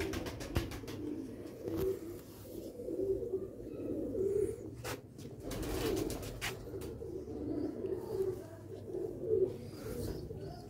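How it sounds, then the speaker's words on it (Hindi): Black-faced Sialkoti pigeons coo nearby in soft, repeated rolling calls over a low background murmur, with a few sharper noises mixed in. "जैनवन सियालकोटी काले मूंह वाला कबूतर"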